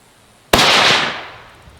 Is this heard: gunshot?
yes